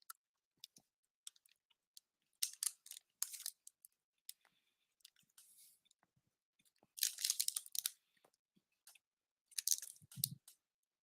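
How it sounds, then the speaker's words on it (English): Someone chewing a chewy protein bar close to the mic, scattered crunchy bites and wet clicks in irregular bursts with quiet gaps between. "there was a lot of chewing required"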